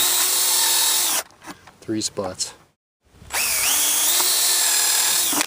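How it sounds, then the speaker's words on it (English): A power drill whines loudly as it pre-drills cheap, flimsy wood near its end, stopping briefly while someone speaks, then spinning up again near and steady. "You got to pre-drill them because they're so cheap and flimsy."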